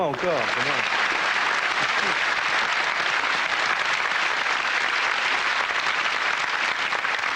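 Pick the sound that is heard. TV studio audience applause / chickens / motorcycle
TV studio audience applause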